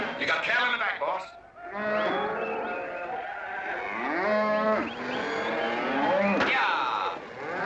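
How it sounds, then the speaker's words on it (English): Cattle low repeatedly in the background, a series of long drawn-out moos from several animals that overlap and carry on for several seconds at moderate distance. "You got cattle in the back, boss."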